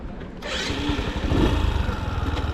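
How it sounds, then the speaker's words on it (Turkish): A motorcycle on a licence test course starts up close by, catching after a brief moment and settling into a loud, throbbing idle. "Motorumuza bindik. Çalıştıralım."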